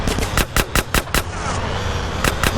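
Rapid bursts of gunfire in Grand Theft Auto: San Andreas, several loud sharp shots in quick succession over about a second, a pause filled with background game noise, then a few more shots near the end.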